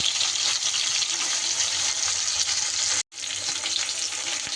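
Fish frying in a pan gives a loud, steady hiss and sizzle that breaks off sharply for an instant before resuming just as strongly.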